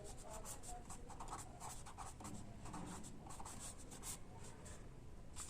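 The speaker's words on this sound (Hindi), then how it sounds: "यहां लिख देता हूं मैं आगे का काम" Chalk scratching and tapping across a classroom board while a teacher writes out a science lesson on the human digestive system, short rhythmic strokes with faint room noise.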